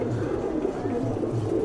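Madrasi pigeons coo close by in soft, low, rolling repeated calls under a background murmur.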